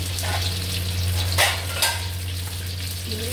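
Eggplant frying in oil in a pan, a steady close sizzle with a low hum underneath and a couple of brief clinks from stirring.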